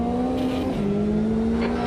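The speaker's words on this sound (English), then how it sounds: "I'm gonna let this hypercar go by." A hypercar in Automobilista 2 at Road Atlanta sweeps past with a sustained engine tone that bends in pitch as it goes by, heard from inside another car over steady engine drone.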